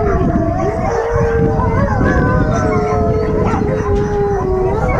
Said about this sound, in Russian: волчица воет